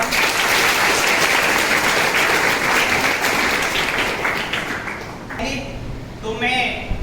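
Loud, dense applause from a school audience at a World Heart Day program in Banmankhi, Purnea, as the principal is introduced. It holds steady for about five seconds, then thins out as a voice begins speaking over the fading claps.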